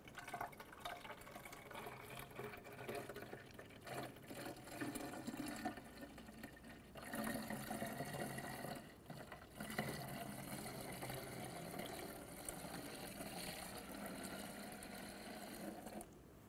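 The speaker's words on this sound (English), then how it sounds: "Go ahead and fill the reservoir or expansion tank to the fill line." Coolant poured into the radiator reservoir of a 2006-2013 Chevrolet Impala, a faint, continuous liquid trickle and gurgle lasting throughout, quiet and steady with slight surges.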